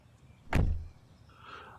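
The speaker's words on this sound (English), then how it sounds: "I'll just close the doors for you." In Assetto Corsa, a single solid car door thuds shut, a short heavy slam with a low resonant tail, followed by faint ambient hiss.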